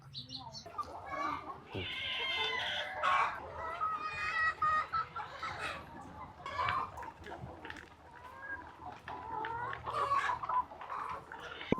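Several free-ranging native chickens cluck and chatter nearby on a farm in irregular bursts, with faint background noise and a voice occasionally mixed in.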